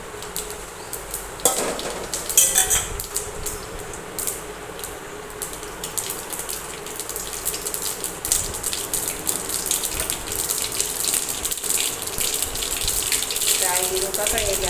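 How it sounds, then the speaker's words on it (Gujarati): Mustard seeds and cumin drop into hot oil in a pan, giving a close, steady crackling sizzle that builds and stays busy, with a few clinks of a utensil near the start. "તેલ તપી ગયું છે તો આપણે નાખીશું રાય જીરું"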